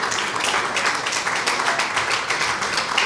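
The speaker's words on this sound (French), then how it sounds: "nous pouvons applaudir le plus fort du salon." A crowd at a New Year's reception for a sports club claps loudly for a women's team leading its championship. The applause is dense and continuous, with a steady flutter of many hands throughout.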